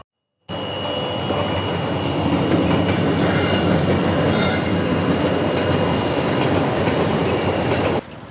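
A train rolling through a railway level crossing, loud and close, with continuous rumbling wheels, rhythmic clatter and bursts of high wheel squeal, starting abruptly and holding steady for several seconds before cutting off.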